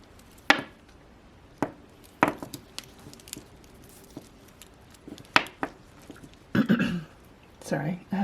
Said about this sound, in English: Sorry, I have to clear my throat a lot.